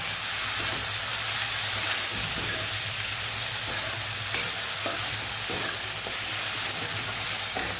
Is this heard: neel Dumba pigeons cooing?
no